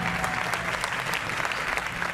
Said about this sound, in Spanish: Bien, el aplauso para Jeremías